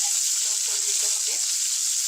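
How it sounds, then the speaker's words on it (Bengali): Sar puti fish frying in oil in a kadai, a steady bright sizzle running evenly throughout at moderate loudness, with no voices. "এখন এভাবে ভেজে নেবো উল্টে পাল্টে, ঢেকে দেবো 2 মিনিটের জন্য।"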